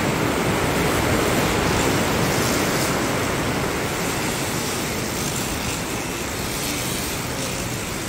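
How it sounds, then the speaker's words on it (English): Heavy rain pours down in a dense, steady roar during a windstorm, a broad constant hiss with no breaks and no voices. "The wind died down just a little bit, but it's still pouring."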